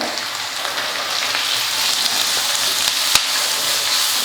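Onion, curry leaves and grated carrot sizzle steadily in a hot oiled pan, a constant loud crackle with one brief clink partway through.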